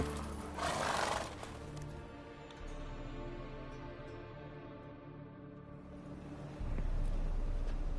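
Geralt's horse Roach from The Witcher 3 gives a whinny, with hoof clip-clop and game ambience, on a burst near the start and heavier sound at the end.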